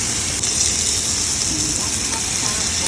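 Vegetables sautéing in a pan with vinegar for escabeche tilapia, a steady hissing sizzle with light stirring scrapes, close and continuous.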